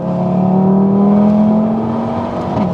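An Audi TT RS five-cylinder engine accelerates hard with a loud, close, steady droning growl whose pitch climbs gradually, with no talking.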